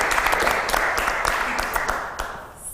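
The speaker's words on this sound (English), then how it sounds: "Let's give a quick round of applause for a" A studio audience claps in a sustained round of applause, dense and fairly loud, tapering slightly toward the end, with a voice briefly audible under it.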